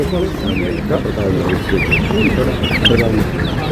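Chickens, including turkeys, cluck and squawk in a busy, overlapping chorus nearby at the Sunday poultry market in Tirur while several people talk over the noise.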